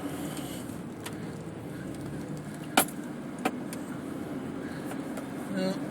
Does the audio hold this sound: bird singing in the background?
no